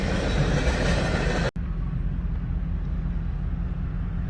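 A train rolls through a level crossing at Mitchell and Airport Parkway, a loud continuous rumble of wagons that cuts off abruptly and leaves a lower, steady background drone.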